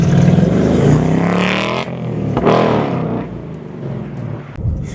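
A Ford Mustang GT pulls away with a close, loud engine note that rises and then fades, followed by a brief second surge near the end.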